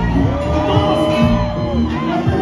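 Concert crowd cheering for a Cuban rapper at a hip hop concert, loud whoops and shouts rising and falling over a dense crowd roar.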